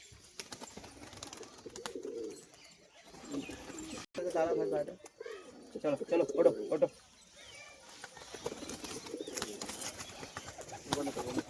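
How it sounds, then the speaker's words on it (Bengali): Green and white pigeons coo softly in intermittent low rolling calls close by, mostly under someone talking. "এক সেট পায়রা দেখুন সবুজ পায়রা সাদা সবুজের মধ্যে এটা মাদি এটা নর"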